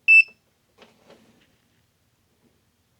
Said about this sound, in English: Get out my multimeter, turn it to voltage.